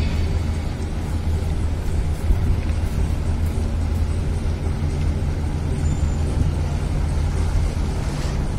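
Tugboat KT Jayanegara 305 entering its berth at the Tanjung Perak tug base in Surabaya, its engine giving a continuous low, heavy drone with steady broadband rumble throughout, no voices.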